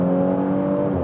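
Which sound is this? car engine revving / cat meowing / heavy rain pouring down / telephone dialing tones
car engine revving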